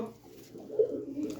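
Pigeons kept by a Punjabi fancier give low, soft coos that swell to a louder note near the middle and return again toward the end, over a quiet background.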